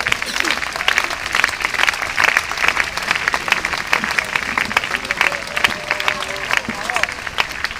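Sustained crowd applause from a gladiator fight spectacle, dense and loud clapping rolling steadily throughout with scattered cheers mixed in.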